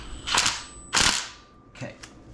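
A ratchet tightens a bolt during a junkyard 5.3 LS engine swap into a 1953 Chevy 3100, giving three short, sharp clicking bursts at close range with pauses between them.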